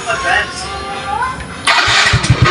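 Motorcycle engine with a drained battery being started, a whirring starter crank that catches into a loud, rhythmic idle pulsing close by, with a voice briefly at the start.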